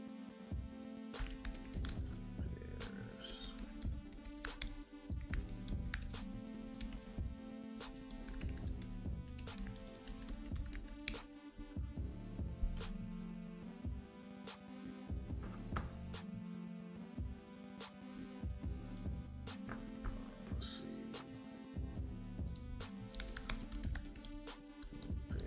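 Computer keyboard typing runs steadily under dense background music, a continuous clatter of keystrokes at moderate level throughout.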